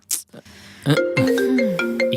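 A mobile phone ringtone plays close and clear, a melodic electronic tune of bright repeating tones starting after a few brief noises, with no talk over it.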